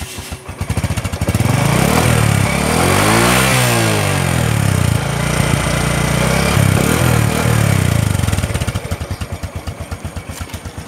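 A Yamaha Neo 209 FI motorcycle engine idles then revs up loudly, holding a steady roar for several seconds before settling back to a rhythmic idle chug.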